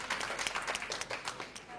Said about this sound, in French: Et bravo encore, on peut l'applaudir.